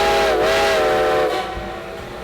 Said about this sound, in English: You can hear it echo across the valley.